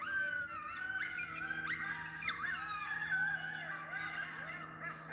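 A recording of coyotes from the Pennsylvania woods, several overlapping howls and yips rising and wavering at a moderate distance, sustained over a steady low background hum.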